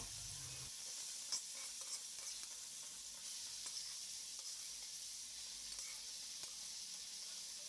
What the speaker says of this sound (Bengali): এবার ভালোভাবে নেড়ে ছেড়ে নেব যাতে সবগুলোর সাথে সবগুলো উপকরণ ভালোভাবে মিক্স হয়ে যায়